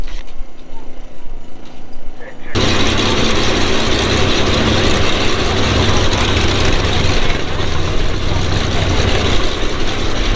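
A Longtrack Speedway bike engine at a sand drag event roars up suddenly after a quiet start and holds a loud, steady, rough drone for the remaining seconds.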